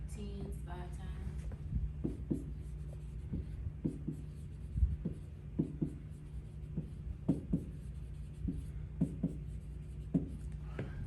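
A teacher writing numbers on a classroom board: a series of short, crisp tapping and scratching strokes at an irregular pace, fairly faint over a quiet room hum.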